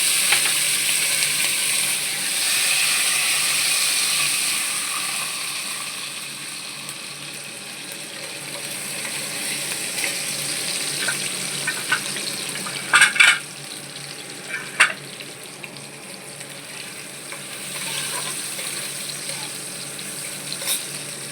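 Diced potatoes tossed into hot oil in a pan, a close continuous sizzle that softens over time, with a few sharp clinks and scrapes of stirring near the middle and no talk.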